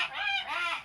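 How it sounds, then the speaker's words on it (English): A young hawk gives fussy, harsh begging calls, two drawn-out squealing cries in quick succession, close and fairly loud with no talk over them. "That's the sound of a fussy hawk."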